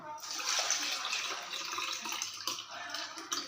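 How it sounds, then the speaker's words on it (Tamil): Water poured over ration long-grain rice soaking in a vessel as it is washed for idli batter, a steady close splashing pour that runs continuously and eases slightly toward the end. "நல்ல தண்ணி மேலே அப்படி ஊற்றுங்க"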